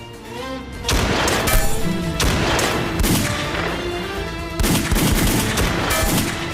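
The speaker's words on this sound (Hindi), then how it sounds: "भाई ये आदमी तो गोलियां बरसाने से रुक ही नहीं रहा" Heavy gunfire rattles almost without pause, dense bursts of shots with loud cracks and booms layered over each other for several seconds.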